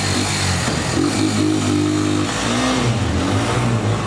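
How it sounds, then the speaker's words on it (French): Motorcycle engines rev loudly and close by, a continuous rough roar that rises and shifts in pitch as the throttle changes. "Des motos!"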